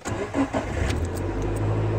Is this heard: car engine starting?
yes